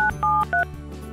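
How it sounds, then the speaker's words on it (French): Keypad tones of a toy telephone during doll play with a Baby Born baby doll: three short, bright dialing beeps in quick succession, close and clear, over a faint low hum. "Maintenant, je dois appeler le docteur Max Staffins."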